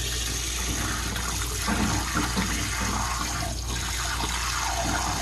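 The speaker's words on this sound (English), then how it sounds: "next thing I'm going to do is just rinse this in some lukewarm water" Lukewarm tap water runs steadily from a faucet over a kombucha SCOBY being rinsed, a continuous broad splashing hiss with slight shifts as the culture is moved under the stream.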